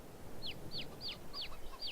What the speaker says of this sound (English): I have some chickens.